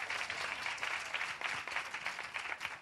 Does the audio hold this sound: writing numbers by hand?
no